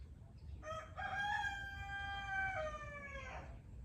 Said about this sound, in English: not just the roosters, the chickens, the chicks